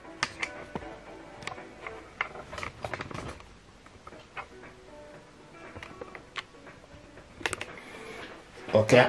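A Wi-Fi password is keyed in for setting up a Canon PIXMA TS3151 printer, heard as scattered, light taps coming in short irregular bursts, close and fairly quiet, ending in a louder rustle.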